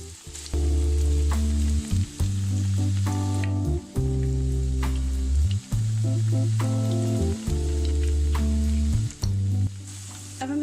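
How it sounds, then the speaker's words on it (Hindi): Bread pakora pieces fry in hot oil with a close, continuous crackling sizzle, overlaid by a steady tonal hum that repeatedly breaks off and resumes. "इसी तरह से हम बाकी पीसेस को भी फ्राई कर लेंगे"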